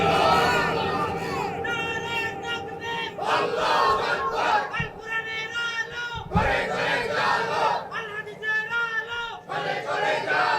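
Large crowd chanting a loud collective response to a takbir call at an Islamic religious gathering in Bangladesh, voices massed and sustained throughout.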